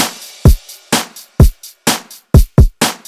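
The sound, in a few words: drum beat with kick and crash cymbals, FL Studio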